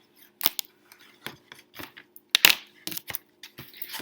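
Scissors cut out pieces of cardboard with a quick, irregular run of close snips and crunches, each cut short and crisp with brief pauses between.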